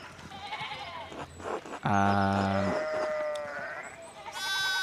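Sheep bleat in a farmyard scene from the video game Pentiment, with a loud drawn-out bleat standing out amid several shorter animal calls and faint background game sounds.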